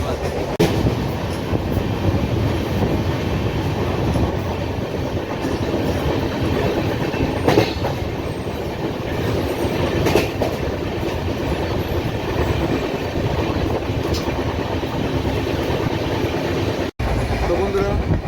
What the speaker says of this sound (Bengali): ট্রেন আমাদের ভালো গতি তুলে দিয়েছে